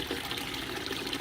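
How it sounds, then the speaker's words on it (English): Water pours down the overflow screen of a 20-gallon long aquarium's plumbing, giving a steady, close, hissing trickle and gush that continues evenly with no pauses and no voices. "it forces the water to go down the screen completely"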